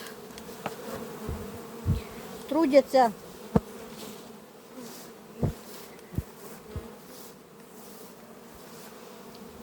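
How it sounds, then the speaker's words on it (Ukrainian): Bees buzz around sunflowers in a Ukrainian garden, a steady insect drone with a few closer passes rising and fading, and someone talks quietly over it. "бджолки мої працюють"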